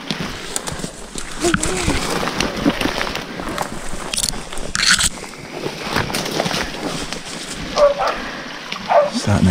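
Several hunting dogs bay and bark at a cornered wild boar in the Coromandel bush, the barking fairly distant and irregular amid rustling movement and wind-like background noise.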